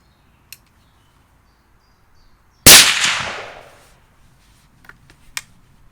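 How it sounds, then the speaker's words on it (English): A single sharp gunshot from a Bergara BA13 take-down single-shot rifle, loud and close, with a decaying echo that lasts about a second. Faint clicks come before and after it in an otherwise quiet outdoor setting. "just fire a few shots through it"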